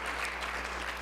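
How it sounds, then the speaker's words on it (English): Audience applause at a lectureship event, a steady dense wash of clapping throughout with no voices over it. "Let's give him a round of applause."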